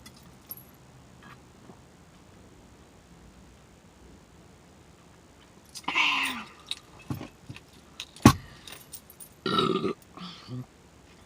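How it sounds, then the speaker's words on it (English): Burps after eating crepes, a couple of loud, close eructations around the middle and end, separated by quiet stretches with faint mouth noises; a person talks briefly. "They make me burp every time."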